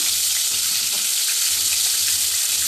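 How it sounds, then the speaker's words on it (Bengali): Hilsa fish pieces fry lightly in hot oil for mustard hilsa, giving a steady bright sizzle with faint stirring scrapes underneath and no talking. "ইলিশ মাছ হালকা ভাজতে হয়"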